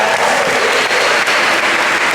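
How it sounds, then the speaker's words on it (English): Loud, close applause from a large audience at a World Youth Day catechesis session in 2016, a thick sustained roar of clapping filling the whole stretch without voices. "so a round of applause for that"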